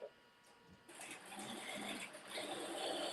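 A sewing machine runs a line of top stitching with white thread in the bobbin, giving a faint, steady whirring hum. It starts after a brief quiet moment and continues evenly.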